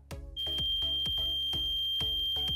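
A steady high-pitched electronic buzzer tone from a simple latch-relay laser alarm sounds continuously and close, over a rhythmic low thumping pulse.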